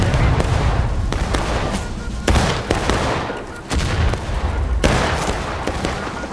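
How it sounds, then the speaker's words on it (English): Repeated musket volleys from a company of soldiers, loud broadband cracks landing roughly every one to two seconds, with some shots overlapping into ragged rolling bursts. "Company! Take aim! Ready! Give them help! Good volleys, good volleys."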